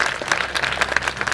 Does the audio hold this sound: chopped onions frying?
no